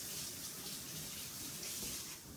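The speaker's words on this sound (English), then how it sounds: "I'm going to rinse my hands real quick" A tap runs in a home kitchen while hands are rinsed, a soft, steady gush of water that stays faint and continuous.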